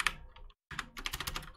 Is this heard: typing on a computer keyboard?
yes